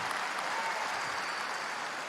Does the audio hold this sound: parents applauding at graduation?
yes